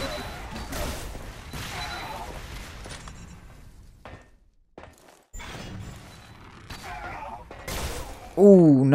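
Rapid gunfire and impacts from the arena shooter Xonotic during a duel match, dense bursts of shots with a brief quiet gap, someone commentating over much of it.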